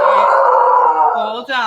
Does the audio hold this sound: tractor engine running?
no